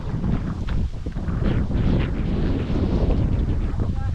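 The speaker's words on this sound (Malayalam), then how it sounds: "നല്ല കാറ്റുണ്ട് കേട്ടോ." Strong wind buffets the microphone in a continuous loud rumble over open water near Kerala paddy fields, steady throughout with gusty swells and a faint voice underneath.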